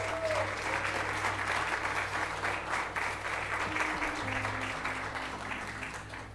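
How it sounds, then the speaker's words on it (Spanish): A church congregation claps together in sustained, dense applause that stays steady and fairly loud throughout, with no speech over it. "Dale un aplauso al Señor."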